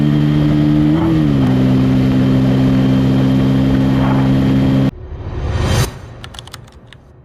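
A Bajaj Pulsar N160 motorcycle, ridden single-seat, drones loudly at high speed in fourth gear with steady wind and engine tone, which cuts off abruptly into a burst of rushing noise and scattered clicks.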